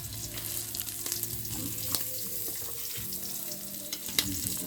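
Leftover paksiw fish sizzles as it fries in a pan with garlic, giving a steady close hiss with small crackles and pops and an occasional stirring scrape.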